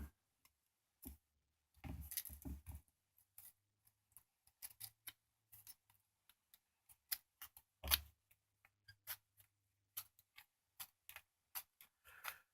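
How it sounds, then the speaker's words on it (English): Tin snips cutting copper pipe, giving a series of sharp metallic clicks and short crunching snips, some in quick clusters and others spaced apart, close and fairly quiet. "I got my better tin snips."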